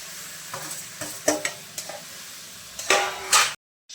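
Mango pieces with sugar cooking in water for a pickle, giving a few soft stirring scrapes and bubbling sizzle bursts that grow louder near the end before a sudden cut, close and with no voices.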